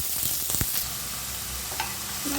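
Onions fry in hot oil with a steady, close sizzle and occasional stirring clicks throughout, with no voices.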